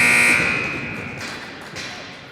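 A loud electronic buzzer sounds for about a third of a second at an under-19 girls' ice hockey game, then fades into arena ambience with a couple of dull thumps.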